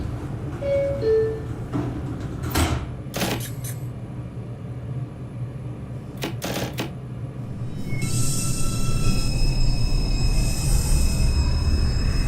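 An NYC Subway R142 train on the 5 line runs in the OpenBVE train simulator, a steady low rumble with a few sharp clicks and a rising whine toward the end, no talking.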